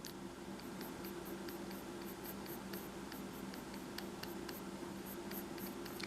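Pencil or pen scratching across paper while drawing cartoon characters, a steady close scribbling texture with faint irregular strokes running continuously under a soft background hum, no talking.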